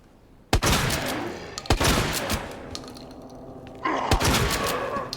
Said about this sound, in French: j'ai envie de tester le nouveau fusil